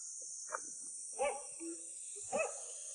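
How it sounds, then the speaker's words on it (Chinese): A large rural farm dog in a bamboo-ringed mountain village in Sichuan barks a few times at a distance, three muffled woofs over a constant high insect drone. "这边喂有一个大狗"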